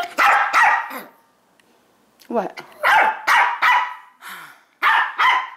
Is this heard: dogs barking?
yes